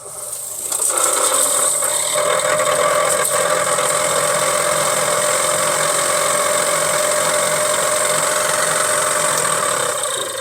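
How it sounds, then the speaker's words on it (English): A heater blower motor runs steadily in a 1963 Ford Falcon Futura, a loud continuous whir with tonal hum that starts in the first second and holds unbroken to the end, no talking. "I want to turn this blower motor on."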